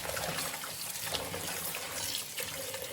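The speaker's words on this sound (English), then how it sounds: "I finished washing the bok choy" Water runs and splashes steadily in a sink while freshly harvested bok choy is washed, a continuous faint trickling with light sloshing and no voices.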